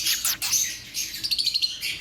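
Caged birds in an aviary chirp and tweet, a busy mix of high, quick calls and short trills close at hand, with no talking.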